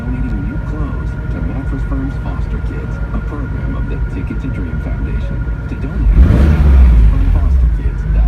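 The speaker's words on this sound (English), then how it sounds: "I can still rev the car outside" Turbocharged BMW E36 convertible with an M50B25tu engine idles with a steady drone under a voice, then the revs rise sharply into a loud, rough surge near the end.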